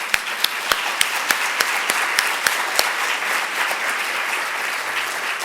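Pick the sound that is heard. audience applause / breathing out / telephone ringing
audience applause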